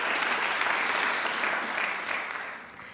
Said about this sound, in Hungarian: kérnék nekik egy nagy tapsot